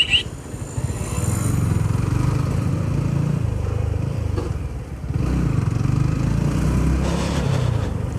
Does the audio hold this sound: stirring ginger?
no